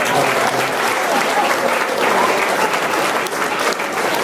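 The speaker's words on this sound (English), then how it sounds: "Let's give those folks a round of applause" A banquet audience gives a full round of applause, dense steady clapping from many hands filling the room at close range and holding its level throughout, with no speech over it.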